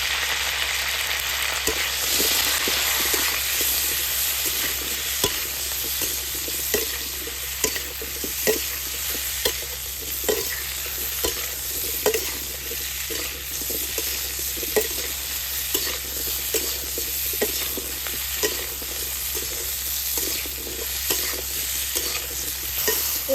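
Cauliflower florets with turmeric and salt fry in a pan with a loud steady sizzle, broken by regular scraping and stirring knocks of a spatula, with no talking.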